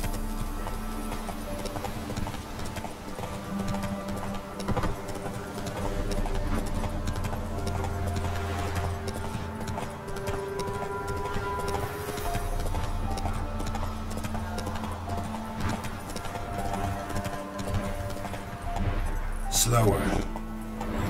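The horse Roach clip-clops in a video game: steady hoofbeats roll on under low ambient music, and a short sharp sound comes near the end.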